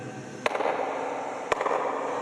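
Two sharp handclaps ring out in the judgement hall of Golconda Fort, about a second apart, each followed by a brief echo over steady background noise.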